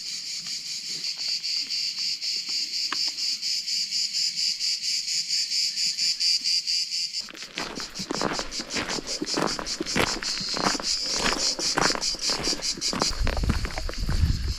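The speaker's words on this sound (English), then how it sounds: "crickets are doing their thing." Crickets chirp loudly and continuously in warm Italian countryside along a hiking trail, a dense steady high buzz with rhythmic pulsing that grows busier partway through, with faint footsteps beneath.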